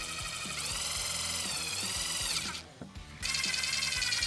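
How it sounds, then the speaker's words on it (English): A steady, high-pitched whine of a step drill boring a 5/16 hole close up in a 2015-2020 Suburban, with a brief dip midway before it spins back up to full speed. "I recommend using a step drill and drill to the 5/16 hole."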